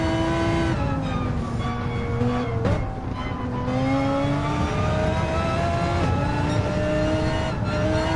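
Racing cars roar past at Spa in a GT racing video game, engines revving with rising and falling pitch as they zoom by, loud and continuous with overlapping engine notes throughout.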